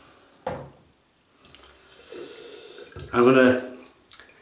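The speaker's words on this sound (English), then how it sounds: "I've just added a bit of water to that." Water splashes from a tap onto a black-hair synthetic shaving brush in a short, close burst near the end, after scattered handling noises and someone speaking briefly.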